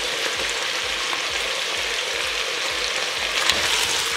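Onion and carrot fry with a steady, dense sizzle in a pot over a few seconds while being stirred, with light scraping close by.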